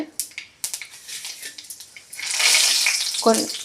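Mustard seeds and cumin hit hot oil for a tomato chutney. A loud, steady sizzling hiss swells up about halfway through after quieter kitchen clatter, and a brief voice sounds near the end.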